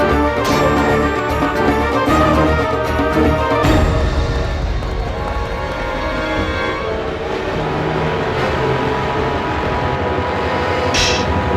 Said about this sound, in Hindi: देखो, औजारों से भरी रेलगाड़ी पहुंच रही है।